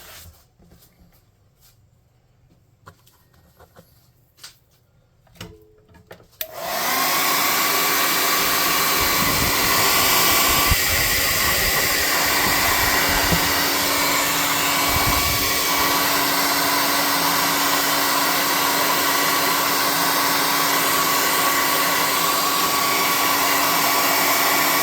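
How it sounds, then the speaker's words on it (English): An air gun blows steadily on a scorched tabletop building model, a loud continuous hiss that starts abruptly after quiet handling sounds and runs unbroken. "Then I might hit it with the air gun."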